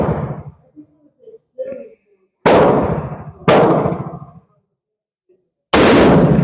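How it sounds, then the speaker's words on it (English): A Spanish Civil Guard Mauser rifle fires three loud, sharp shots at close range, each blast ringing out and decaying over about a second, with short quiet gaps and brief handling and talk before the first. "That last shot was probably a flyer, or the first shot."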